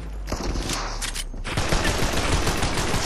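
Dense automatic gunfire in the VR shooter Crossfire Sierra Squad on PS5, a short burst and then sustained rapid fire that stays loud and close throughout, with no speech.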